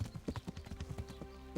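A horse's hooves clip-clop at a steady walk in the medieval video game Kingdom Come: Deliverance, quick and even but quiet and close.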